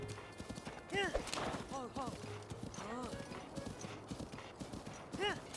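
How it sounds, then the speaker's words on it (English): Horse hooves clip-clop steadily in a Zelda video game, with horse-riding music underneath, a whinny rising near the start and again at the end, while a person talks over it. "I like the horse riding music as well."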